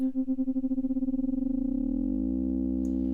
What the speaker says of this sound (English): I'm hearing this kind of complex collection of a few different frequencies